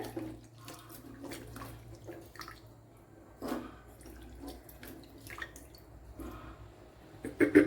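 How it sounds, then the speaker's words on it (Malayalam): Running water splashes and trickles while shrimp are rinsed by hand, with irregular sloshes and drips, close up and moderately quiet, ending in a louder splash. "ഇതിനെ ഒന്ന് കഴുകിയെടുക്കാം"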